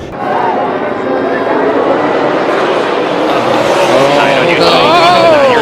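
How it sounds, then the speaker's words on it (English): A stock car turns on a restart and crashes going into turn 1 during a 2022 race; loud engines roar continuously with tire squeal, crowd noise and commentary over the top. "And there goes the 9, turned on the restart. And a big crash going into turn 1."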